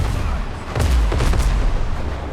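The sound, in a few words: ship cannon firing in Windrose video game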